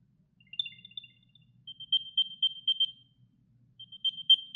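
An Apple AirTag 2 plays its locator sound: a series of short, high electronic chirps in quick rhythmic bursts separated by pauses, clear and close over near silence, with no speech.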